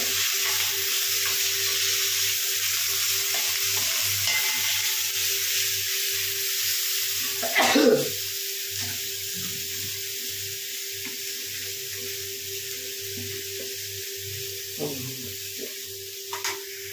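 Spinach frying with spices in a pan, a steady loud sizzle with stirring scrapes and a sharp burst of clatter midway, close and continuous.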